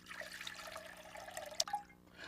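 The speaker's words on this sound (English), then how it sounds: "We'll start by filling this with water." Water runs into a clear glass cube vase for a floral centerpiece, giving faint trickling and a few soft splashy drips, with a brief brighter splash near the end.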